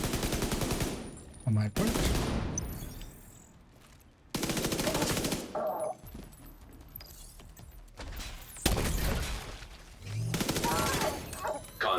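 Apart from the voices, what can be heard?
gunfire from a video game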